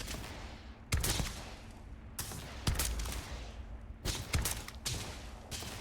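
Gunfire in the space game Starfield comes in loud separate bursts, each a sharp crack followed by brief rattling fire, with short quieter gaps between volleys.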